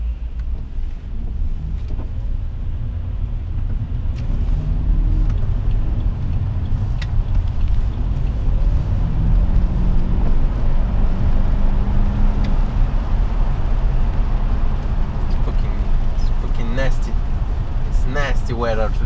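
A BMW E65 745i creeps through slow, rainy city traffic at about 30 km/h, heard from inside as a steady low engine and road rumble with wind buffeting, while someone talks over it.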